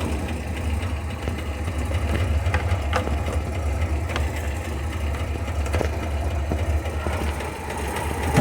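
A 1960 Dodge Fargo van's engine runs at a steady low idle nearby, a rumbling drone with scattered clicks and knocks and no talking.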